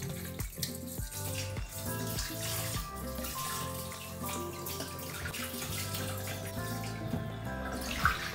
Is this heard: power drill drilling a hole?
no